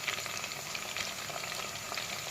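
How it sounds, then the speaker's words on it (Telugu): Onions, chillies and tomato pieces frying in oil for biryani, a steady close dense sizzle with soft crackles, continuous and even, with no voices. "ఆనియన్స్ చిల్లీస్ వేస్తున్నా ఫ్రెండ్స్. గోల్డెన్ కలర్ వచ్చే వరకు వదిలేయాలి."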